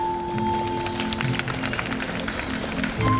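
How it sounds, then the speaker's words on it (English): Audience applause at a nursery school function in Prayagraj, a steady patter of clapping over about three seconds, held at an even level alongside a faint sustained hum. "Let's all clap."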